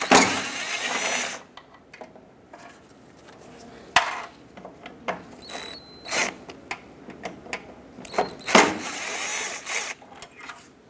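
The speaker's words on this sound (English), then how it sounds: "To remove the corner light, we have to remove the two screws that are on the bottom." Phillips screwdriver removing the two bottom screws of a headlight corner light on a 2000-2005 Ford Excursion, heard as close, scattered metallic clicks, scrapes and short squeaks with brief louder bursts.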